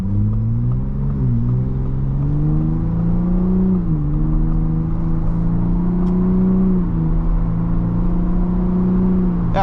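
A Ford Bronco Raptor engine pulls hard under acceleration, a deep, steady drone that rises through quick downshifts and gear changes, loud and heard from the cabin.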